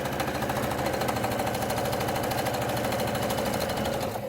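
A sewing machine stitches a fabric tie onto a face mask close to its folded edge, running as a steady, fast mechanical chatter for the whole stretch.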